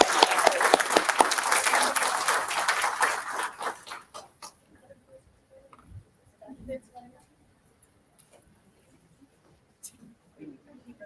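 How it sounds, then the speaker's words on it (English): A round of applause at a school board meeting for two chess sponsors, many hands clapping steadily for about four seconds before dying away into faint room noise, scattered taps and a few quiet voices. "Let's give them a round of applause."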